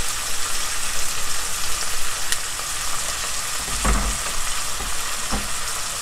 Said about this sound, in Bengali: এবার আদা পেস্টের মশলাটা ভালো করে কষাতে হবে, গন্ধটা চলে যা পর্যন্ত।